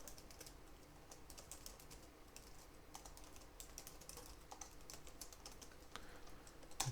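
Code is typed on a computer keyboard in quick, quiet runs of key clicks with brief pauses, recorded close in an otherwise still room.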